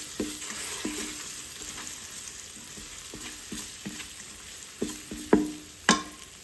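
Store-bought garlic paste frying in a pan for yellow toor dal, giving a steady soft sizzle with occasional sharper pops and stirring clicks that grow louder near the end.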